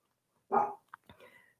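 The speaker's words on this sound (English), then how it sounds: "Edgar's going to join us today with some barking" A dog barks once loudly during an indoor library yoga class, followed by a couple of softer yips and whimpers, close by with no talk over it.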